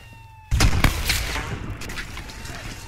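Gunfire in the military shooter game ArmA: after a quiet moment, a loud, close burst of sharp shots erupts, followed by a few more cracks and a fading rumble.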